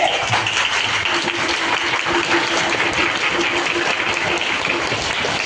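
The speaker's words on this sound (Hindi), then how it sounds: "नाटक अच्छा लगा हो तो तालियां बजाइए" Students and audience applaud after a school stage play, a continuous, fairly loud wash of many hands clapping throughout, with faint crowd murmur underneath.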